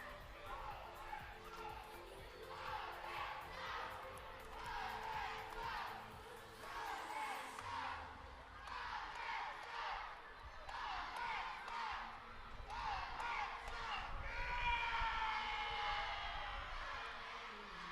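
Stadium crowd at an athletics world championship in Dubai cheering and shouting after a race, a rolling roar with bursts of whoops rising and falling, building louder toward the end, with a commentator's voice faintly underneath.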